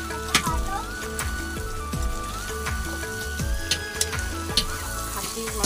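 Mutton for a red curry sizzles loudly in a hot pan while it is stirred, with sharp clinks of the spoon against the pan breaking through the constant frying crackle.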